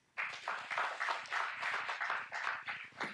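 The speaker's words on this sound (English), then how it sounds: "So round of applause for Vix." Steady round of audience applause at a business conference, a dense wash of many hands clapping that swells in quickly and holds at an even level throughout.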